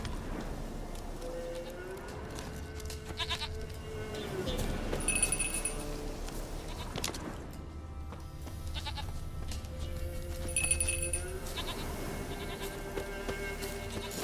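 A goat in the video game The Witcher 3 gives drawn-out, wavering bleats twice, set against a continuous soft ambient bed with faint jangling and a few hoof-like clicks.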